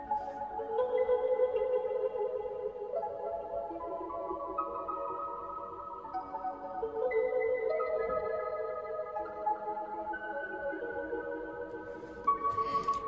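Layered melodic music with sustained tones that smear and echo, giving a warbly, delayed, tape-like texture; steady and moderately loud throughout.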